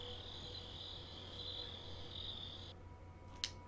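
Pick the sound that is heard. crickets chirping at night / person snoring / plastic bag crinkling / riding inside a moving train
crickets chirping at night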